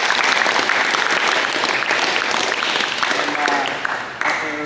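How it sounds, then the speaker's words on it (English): Audience at a wrestling camp session breaking into a quick round of applause, loud dense clapping that thins out toward the end as voices start to come through. "Let's give him a quick round of applause."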